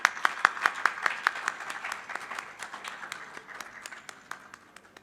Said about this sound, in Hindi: तालियां प्लीज।